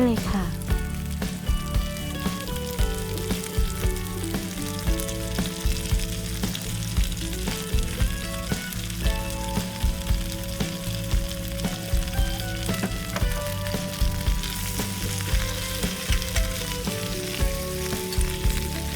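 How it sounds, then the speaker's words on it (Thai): Cabbage stir-frying with garlic in a hot pan, a continuous loud sizzle and crackle with rhythmic scraping stirs, close by, with someone talking and music playing underneath. "ผัดกระหล่ำปลีจนกว่าจะสุก"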